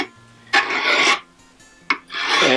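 Steel burnisher rolled and rubbed along the edge of a card cabinet scraper to raise a burr, giving two raspy, scraping strokes separated by a short pause, close and fairly loud with no talking.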